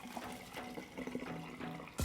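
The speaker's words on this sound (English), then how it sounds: "so let's drain the soba." Cooked green tea soba noodles drained into a colander, a steady splashing pour of water through the noodles lasting about two seconds, close by and moderately loud, ending in a brief louder gush.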